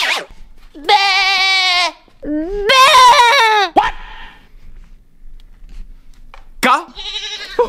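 A goat bleats loudly and nearby in several long, wavering calls separated by pauses, with one more short bleat near the end.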